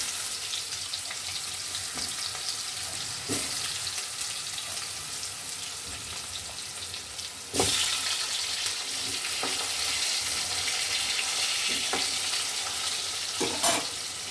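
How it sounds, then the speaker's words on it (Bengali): Potatoes hit a wok of hot oil tempered with nigella seeds and a dried red chilli, giving a loud, steady sizzle with occasional sharp clatters of stirring. No one speaks. "এবার কড়াই আলুগুলো দিয়ে দিচ্ছি।"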